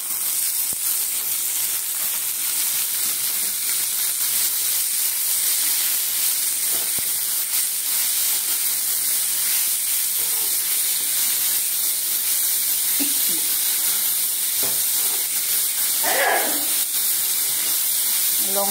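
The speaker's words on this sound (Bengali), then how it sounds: "এইবারে শাকটা দেবো" Red amaranth greens hit hot oil in a pan, giving a steady, close hiss and sizzle that runs unbroken throughout, with a few faint scrapes and no talking.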